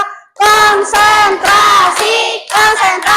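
A classroom of students plays the Indonesian 'tepuk konsentrasi' clapping game, with loud group claps and shouted chant answers coming in rhythmic bursts after a brief quiet start.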